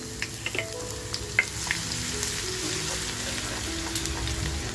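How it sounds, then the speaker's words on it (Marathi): Garlic fries in hot oil in a kadhai with a continuous crackling sizzle and scattered little pops and spoon taps, heard up close with no talking. "तेल आपलं गरम झाल्यानंतर अर्धी लसूण घेतली आहे बघा"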